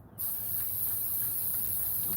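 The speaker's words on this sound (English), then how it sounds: "And you're going to spray it to where you can see the yellow fairly well." Yellow spray paint hisses onto a gray-based tumbler cup in one continuous close burst that starts abruptly and holds steady, with no talking.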